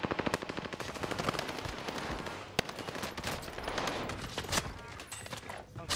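Rapid automatic fire from an H4 Blixen gun in Warzone, sustained bursts of dense shots crackling continuously with a sharp crack partway through and no talk.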